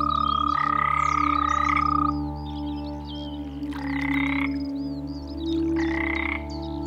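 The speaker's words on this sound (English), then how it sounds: "European green toad." A European green toad gives long, steady trilling calls in three bursts separated by short pauses, loud and close over a constant low background hum.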